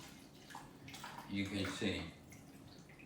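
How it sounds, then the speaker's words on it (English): Three cups of water are poured around a brisket inside a Power XL slow cooker, a soft splashing trickle that swells briefly in the middle, with someone talking over it. "I'm gonna take this water, it's 3 cups of water I'm using, and I'm just gonna pour it all around it"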